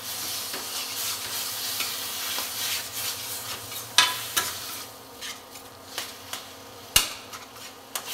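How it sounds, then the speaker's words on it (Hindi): Brinjal roasts with spices in a hot pan for baingan bharta, giving a continuous sizzle under repeated scraping stirs and a few sharp metallic clicks of a spoon. "ताकि मसालों के साथ ही बैगन भी भुन जाए, मसाले भी न जलें"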